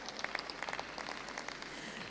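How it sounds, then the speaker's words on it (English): Scattered, light clapping from a small audience applauds an alpaca handler at a national alpaca show, a brief patter of hands lasting about two seconds. "Let's give her a big round of applause."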